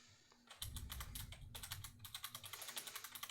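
Rapid clicky keystrokes on an RGB computer keyboard, close and fairly quiet, coming in bursts after a short pause and then settling into an uneven continuous rhythm.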